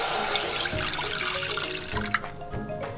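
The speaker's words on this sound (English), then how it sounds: "So I'm gonna put the coffee inside the pot." Coffee is poured into a cooking pot, a continuous splashing liquid stream with small clinks as the pour goes on, heard close and fairly loud.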